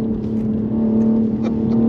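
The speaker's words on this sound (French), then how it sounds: "tu mets trop des grands coups de gaz, frérot!" A BMW M3 Touring engine held at a loud, steady high rev, droning close by for a couple of seconds with slight throttle wavering and no voices.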